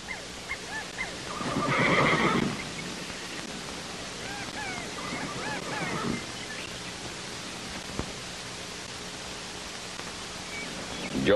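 Horses in an old western scene neigh loudly in one long whinny, followed by softer snorts and faint hoof clopping against a steady hiss, with no talk during the sounds.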